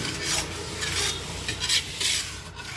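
Urad dal (black gram) being dry-fried and stirred in a pan while preparing sunnundalu, a steady close rasping scrape of lentils against metal with a few louder stirring swells.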